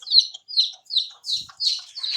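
Brown hens cluck and chirp in a run of short, close calls, five or six bursts in quick succession with no talking.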